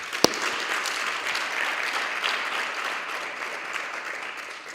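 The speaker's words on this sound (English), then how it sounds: "Can we give yourselves a round of applause?" A college audience at a 2024 student support services indaba applauds with dense, steady clapping that fills the room, opening with one sharp, louder clap and holding at an even level to the end.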